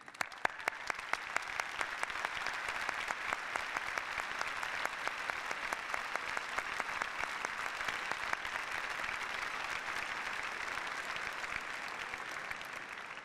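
An audience at a Rochester Institute of Technology convocation in Dubai applauds graduating students, a dense, sustained wash of many hands clapping at steady intensity with no voices.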